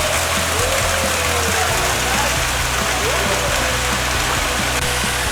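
The waterfall at a waterfalls restaurant in Villa Escudero gives a loud, steady rushing roar of falling water that fills the whole stretch. A voice is faint beneath it.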